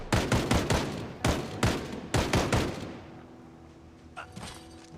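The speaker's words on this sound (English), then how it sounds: "Bandits with shotguns" Shotgun blasts from bandits in Project Zomboid, several loud booming shots in quick clusters up close, then fading to a quieter background with a faint later report.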